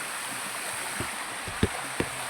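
A small creek flows with a faint, steady wash of water, broken by a few soft knocks and splashes near the end.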